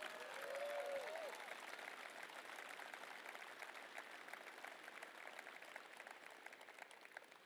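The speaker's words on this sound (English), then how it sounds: "So big claps, please." Steady applause from an audience at a product launch presentation, a dense patter of many hands clapping at moderate distance, holding even throughout with a faint murmur underneath.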